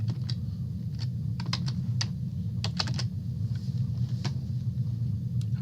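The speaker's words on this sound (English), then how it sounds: "We apologize if we've pressed too many keys." Someone types steadily on a computer keyboard with quick, irregular key clicks over a constant low rumble.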